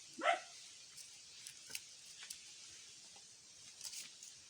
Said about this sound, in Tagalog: Ayan yung aso.